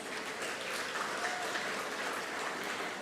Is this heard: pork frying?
no